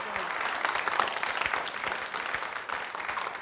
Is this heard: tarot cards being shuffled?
no